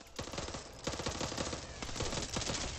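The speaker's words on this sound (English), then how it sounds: "Mom! Watch where you're shooting!" Rapid automatic gunfire in the Back 4 Blood video game, dense overlapping bursts of shots that keep up loud and close with almost no pause.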